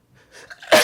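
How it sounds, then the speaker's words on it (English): A single congested sneeze: a faint nasal intake builds over a moment, then bursts into a loud, sharp, close explosive release. "I still have congestion and I'm still sneezing"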